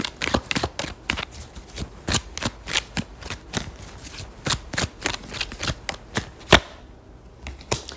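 Tarot cards are shuffled by hand in a quick, rhythmic series of crisp riffling snaps and taps, close and clear, with no talking.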